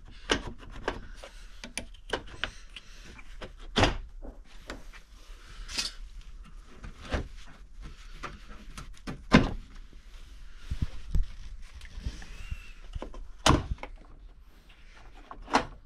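Plastic tail light being rocked and pried loose from a BMW E39's rear body, a run of rubbing scrapes and sharp knocking thunks at uneven intervals, close up with no talk.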